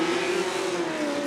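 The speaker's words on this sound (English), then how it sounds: "Seems like it's kind of dropping as far as the tone of the exhaust." Formula Drift pro race car exhaust at a knockout qualifying event, a steady, loud engine note holding a sustained tone that sags slightly in pitch across the run, heard alone without talk.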